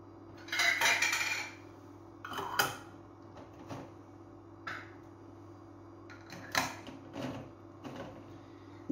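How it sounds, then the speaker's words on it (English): A lid is fitted onto a jar of pickled chillies with a scatter of close metallic and glassy clinks and clatters, spaced irregularly and set against a quiet background hum. "Whack the lid on."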